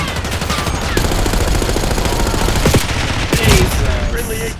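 Dense, loud gunfire fills a Black Ops 6 match aboard a bullet train, with rapid automatic bursts and overlapping shots alongside explosive impacts in a continuous barrage.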